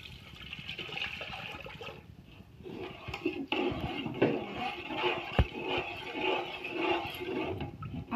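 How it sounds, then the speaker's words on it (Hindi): Water is poured steadily into a cooking pot for vegetable biryani, a continuous splashing gush that rises and changes as the pot fills, close and alone. "मैं पानी डाल रही हूँ।"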